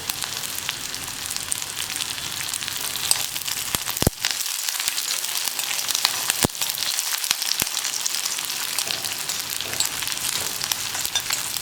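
Dried red chillies and curry leaves fry in hot oil, a steady dense sizzle throughout with a few sharp crackles and pops, no voices.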